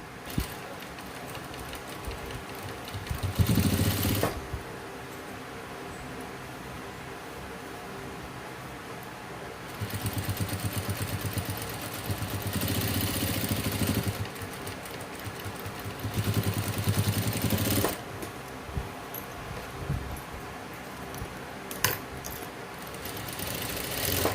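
A sewing machine top-stitches scraps of leftover cloth for a hand purse, running in bursts of steady mechanical whirring with quieter pauses between runs, no talk.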